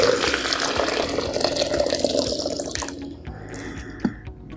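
Freshly brewed organic black coffee from a French press pours into a blender, a steady liquid splash for about three seconds that tapers off, ending with a soft clink.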